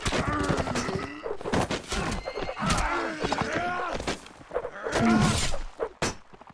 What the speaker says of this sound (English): Red War walked around and is shooting from the back now, from the other alley entrance